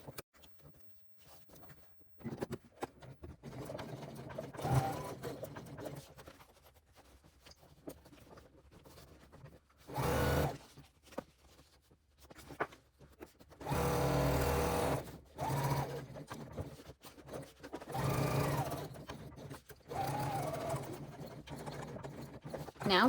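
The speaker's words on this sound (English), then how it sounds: "Lining up your sides and sewing at 3/8 of an inch." A sewing machine stitching the side seam of a crossbody bag, with several bursts of rapid mechanical chatter separated by pauses and quieter handling sounds, fairly close.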